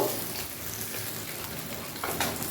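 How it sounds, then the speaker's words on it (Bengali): Fish frying in hot oil, cooked until both sides turn reddish-brown, gives a steady, close, dense sizzle and crackle throughout. It swells slightly near the end, with no talk. "এইভাবে 2 পিঠ লাল লাল করে ভেজে মাছগুলোকে তুলে নেব"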